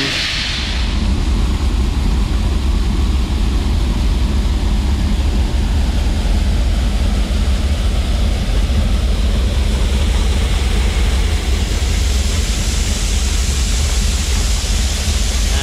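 A grain auger blowing corn into a storage bin, a loud continuous roaring rush of machinery and pouring kernels that holds steady throughout, with no talking.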